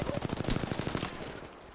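Rapid automatic gunfire in the Apex Legends battle royale, a fast steady burst of loud shots that trails off after about a second.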